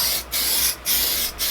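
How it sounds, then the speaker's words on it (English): Mold release sprays onto a mold in three close, loud hissing bursts, each separated by a short pause. "We need to spray our mold itself with a little bit of mold release."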